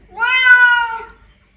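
A Bengal cat gives a single long, loud meow, close and clear, rising slightly and trailing off, with no other sounds around it.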